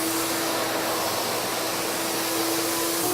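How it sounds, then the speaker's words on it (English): A wet vac sucks fine acid-etching grit residue off a bare concrete floor ahead of epoxy coating, a steady, loud motor whine with a rushing airflow hiss and a constant tonal hum, running unbroken without talk. "So we're going to use this wet vac to remove those off the surface."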